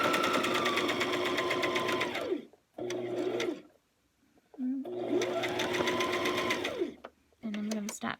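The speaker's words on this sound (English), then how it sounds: "line it up on my 1/4 inch seam, and then I just keep on sewing" A domestic sewing machine stitching a quarter-inch quilting seam runs in two bursts of rapid, whirring stitches, each winding down to a stop, with short pauses between and a brief restart at the end.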